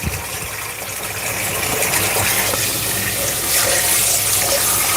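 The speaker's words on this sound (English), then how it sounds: "Wash your rice, people. I do 3 times until it looks nice and clear." Tap water runs steadily into a bowl of rice being rinsed in a kitchen sink, a loud, continuous splashing rush that swells slightly as the water fills, with no talk.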